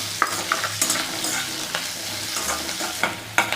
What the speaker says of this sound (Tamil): இப்போ எல்லாத்தையும் நல்லா வதக்கி விட்டுக்கலாம்.